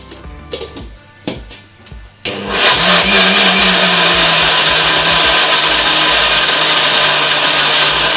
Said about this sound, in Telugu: మనం ఇట్లా మిక్సీ పట్టుకోవాలన్నమాట